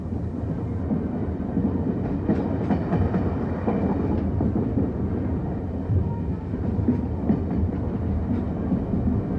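Steam locomotive 3801 rolls through the Perth suburbs, a continuous rumble of wheels and carriages with faint rhythmic clatter, loud and steady throughout.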